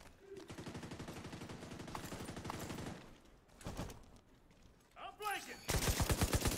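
Gunfire erupts in The Division video game: rapid automatic bursts crackle in a steady rhythm, then break off, returning with scattered shots and a final loud burst.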